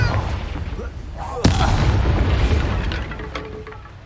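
A Confringo blasting spell explodes in Hogwarts Legacy with a sharp boom, followed by a rumbling roar that slowly fades, while a voice calls out over the battle.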